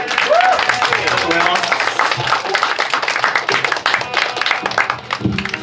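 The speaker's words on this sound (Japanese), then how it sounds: "皆さん拍手" Audience applause and clapping for a composer at a student band's welcome live show, dense and loud throughout, with a voice speaking over it.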